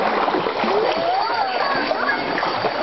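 Water splashes and sloshes steadily as someone plays in it with a ball, with voices in the background throughout.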